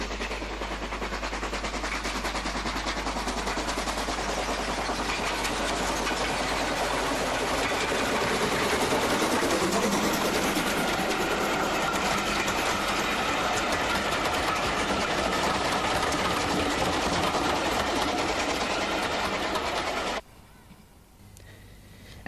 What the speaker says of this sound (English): The same engine, but now coupled to a different rake of coaches, painted in the former Great Western Railway livery.